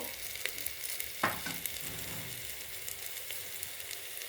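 Spices with turmeric powder sauté in a pan, a dense, even sizzle hissing steadily throughout, with a few faint stirring scrapes and no talking.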